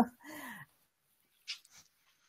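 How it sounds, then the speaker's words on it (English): A dog lets out a short, high whimper, then after a pause a brief second whine, close by and fairly soft. "Oh, that's a dog."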